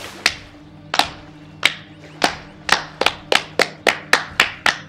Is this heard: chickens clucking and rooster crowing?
no